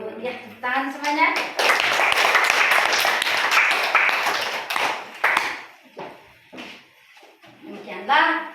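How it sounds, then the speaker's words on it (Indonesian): Children in a classroom clap their hands in a dense, loud burst of rapid overlapping claps lasting several seconds, with voices speaking before and after. "Ya, tepuk tangan semuanya."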